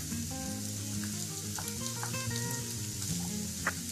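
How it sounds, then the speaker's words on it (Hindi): Ginger, green chilli and finely chopped carrots sizzle and fry steadily in a pan for a pizza puff filling, with a continuous close crackle and light stirring clinks. "दोनों चीजों को हल्का ब्राउन होने तक भून लेंगे।"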